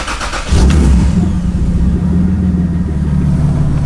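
BMW E36 fitted with a swapped Lexus 3UZ-FE V8 cranks briefly and fires up loudly, then settles into a deep, steady idle rumble close by.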